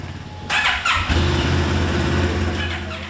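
A CFMOTO MT 700 adventure motorcycle engine cranks and starts, then settles into a loud, steady idle at close range.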